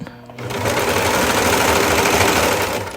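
A sewing machine stitches a dress seam, starting after a brief pause and then running in a fast, steady mechanical whir with rapid needle ticks, loud and close.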